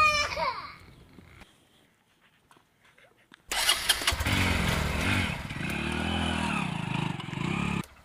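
A motorcycle engine starts up and runs steadily at close range with some clatter, following a quiet gap after a brief voice.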